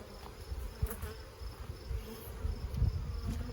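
Honey bees buzz around an open single-brood-chamber hive during a June inspection, a soft steady hum close by with a few louder passes and light handling knocks.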